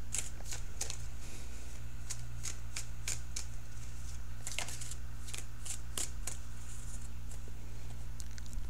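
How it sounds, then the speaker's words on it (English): Close, crisp bursts of tarot cards being shuffled by hand in an irregular rhythm over a steady low hum, with no voices. "So let me shuffle for that outcome card."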